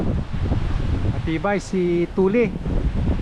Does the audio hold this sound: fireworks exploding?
no